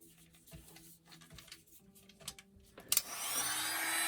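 A hair dryer runs over artwork, starting with soft rustling and handling noises, then switching on near the end into a loud, steady airy whoosh that holds to the finish.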